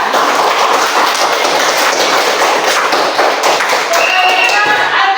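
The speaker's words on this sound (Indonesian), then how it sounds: "Tepuk tangan dulu untuk Zidan." A class of schoolchildren claps for a fellow student, loud, dense and rapid clapping from close by that fills the room without pause, with young voices mixed in.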